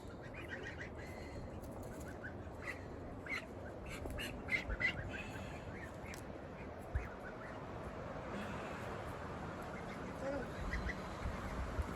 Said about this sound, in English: He's got that little strangled duck noise.